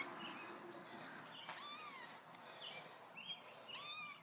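Newborn kitten crying, a series of faint, thin high-pitched mews repeated every second or so in a quiet room.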